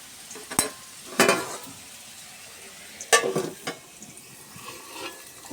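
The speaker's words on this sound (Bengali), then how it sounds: "আর এখানে হচ্ছে আলু ভাজা।" Potatoes frying in a pan while being stirred, with bursts of sizzling and scraping at irregular intervals, close and moderately loud with no one talking.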